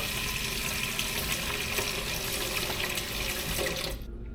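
Water pours steadily from a tap into a pot of rice, a continuous rushing splash that cuts off abruptly near the end.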